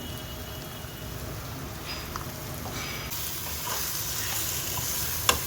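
Ground coriander, garam masala, cumin and chilli powder fry in oil for dal khichdi, a dense continuous sizzle like steady rain, growing louder partway through, with faint stirring scrapes and a sharp clink near the end.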